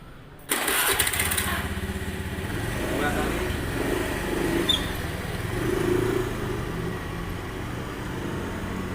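Motorcycles at an outdoor school safety-riding training session roar to life together after a brief silence, then settle into a steady layered engine drone, with voices faintly audible in the background.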